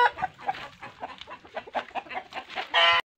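Hens in a large hen house clucking repeatedly at close range, a busy overlapping chatter of several birds ending in a louder sustained squawk.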